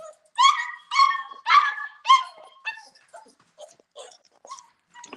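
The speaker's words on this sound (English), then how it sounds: "my puppies are being really loud" Several puppies bark in a quick burst of four loud, close yips, then trail off into softer, scattered whimpers and whines.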